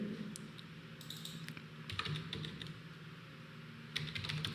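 Keystrokes on a computer keyboard while code is written, a quick irregular run of close, crisp taps with short pauses, over a faint steady room hum.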